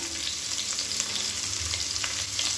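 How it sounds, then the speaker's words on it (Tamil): Sliced onion and whole spices sizzle in hot oil in a pan, a steady dense frying hiss with light stirring scrapes, close and continuous with no talk. "இப்போ எல்லாமே பொரியவும் மீடியம் சைஸாக ஒரு வெங்காயம் நீளமாக நறுக்கினது சேர்த்துக்கலாம்."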